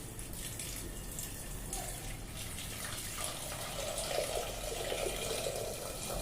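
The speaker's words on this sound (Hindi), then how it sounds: "इसमें हम पानी डाल देंगे ताकि ये अच्छे से उबल जाए।" Water pours steadily into a pot of washed potatoes set up for boiling, a continuous faint rushing stream with no voices.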